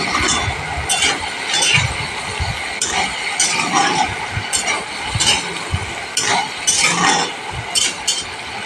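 Small tomatoes frying in a pan, with scattered clinks and scrapes of stirring over a steady, close sizzle.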